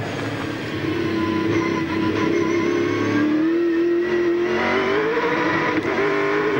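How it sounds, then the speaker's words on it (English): Race car engine from a 2001 V8 Supercar Championship race roaring loud and steady, rising in pitch as the wheels spin off a corner, with no voices. "Wheel spin that time."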